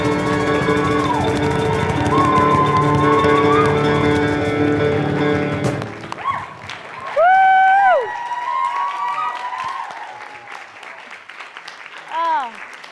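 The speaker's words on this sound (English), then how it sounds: "let's give our musicians a huge round of applause" Audience at a contemporary music conference class gives the musicians a round of applause and cheers, loud at first and fading after about six seconds into voices talking and laughing.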